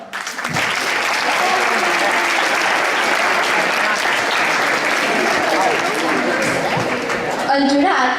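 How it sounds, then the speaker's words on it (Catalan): Loud, sustained applause from a large school audience fills the whole stretch, dense and steady, with a brief shift in the final second. "Un aplaudiment, per favor"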